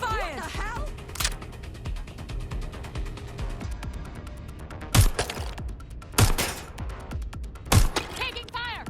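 Gunfire in the video game Watch Dogs Legion: three loud sharp shots at roughly even gaps, over game music and shouting voices.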